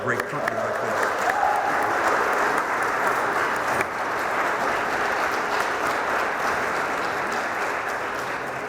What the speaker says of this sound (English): we're going to show that by clapping our hands